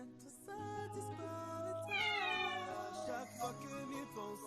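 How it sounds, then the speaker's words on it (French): Domestic cats meowing indoors, several drawn-out, wavering meows following one another, close and fairly soft, with no talk over them. "Voilà, voilà les chats."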